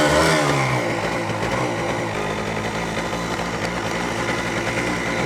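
The two-stroke engine of a motorcycle idles and runs with a steady, buzzing rattle at close range, rising briefly at the start before settling into a continuous drone.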